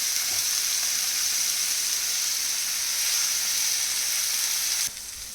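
Onion fries together with chival wild greens in a pan, giving a dense, even, close sizzle that holds steady and then abruptly softens near the end.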